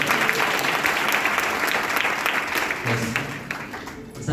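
A church prayer meeting congregation clapping loudly and steadily in unison, a dense continuous wash of applause that thins toward the end with a few voices under it.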